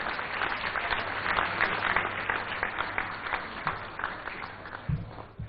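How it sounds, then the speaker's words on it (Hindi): An audience at an awards summit claps steadily and fairly loudly throughout, the applause easing slightly near the end, with a faint voice at the close. "तालियों के साथ आप जोश बढ़ाइए"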